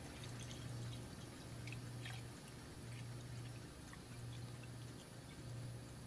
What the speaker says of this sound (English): I'll go ahead and pour water in. I'm going to pour right up to that max line in there.